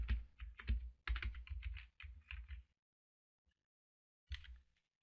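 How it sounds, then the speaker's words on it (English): Quick clicking keystrokes on a computer keyboard, close and fairly quiet, come in a few rapid bursts, then a pause, then a final short flurry. "where it says search plugins, you type in WooCommerce."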